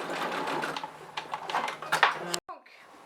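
A sewing machine topstitching fabric for a vanity bag, a close rapid mechanical whir in short bursts that stops abruptly, with a voice talking over it.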